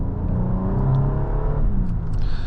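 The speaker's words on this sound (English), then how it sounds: "I just really like that classic Infiniti engine sound" A steady, deep engine hum from a 2025 Infiniti QX80 Autograph luxury SUV runs close by, smooth and constant with a low rumbling tone and no voices.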